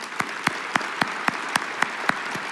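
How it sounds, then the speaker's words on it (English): Audience applause at an alumni awards gala, a dense wash of clapping with a few sharp, louder claps standing out at regular intervals, fairly close and steady throughout. "Let's give them a round of applause."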